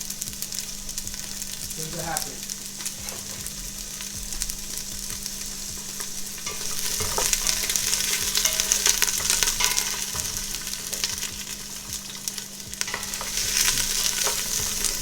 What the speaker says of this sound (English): once you hear your sizzle, that's great.